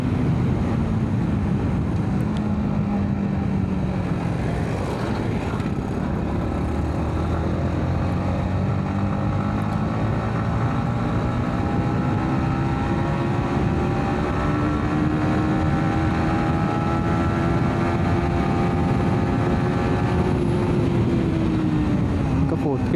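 Yamaha MT 15 motorcycle being ridden at speed, its engine droning steadily and loud with a pitch that rises smoothly through the gears, accompanied by wind rush across the whole stretch.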